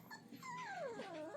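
A puppy from a May litter whimpers in one thin, rising-then-falling whine, close and soft, lasting just over a second with no talk.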